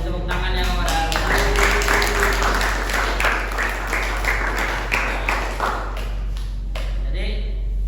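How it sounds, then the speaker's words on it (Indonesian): A small audience claps for a student at a university teaching session, the individual claps sharp and distinct, with a voice speaking over them and a low electrical hum underneath. "Masya Allah, beri tepuk tangannya kepada Aruna."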